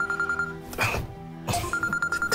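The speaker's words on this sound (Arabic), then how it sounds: "في تليفون مش كده؟" An old-style telephone bell ringing indoors in a few repeated bursts, close and fairly loud, with quiet room noise between the rings.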